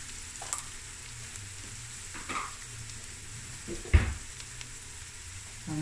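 Cumin seeds and a cinnamon stick stirred in a hot pan, giving a soft, steady sizzle with a few louder scraping stirs, the sharpest near the end, all without talk.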